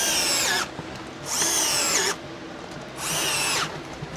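A cordless drill drives screws into a solar panel mounting bracket in three separate whirring bursts, each rising in pitch and lasting under a second, heard close with short pauses between them.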